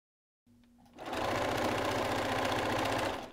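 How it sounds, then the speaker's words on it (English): A sewing machine stitches elastic onto a swimsuit, starting with a faint whir and then settling into a steady, loud, continuous mechanical hum that runs for about three seconds with no talk. "I can start sewing along, pulling my elastic, making sure I'm sort of staying close to the edge of my project"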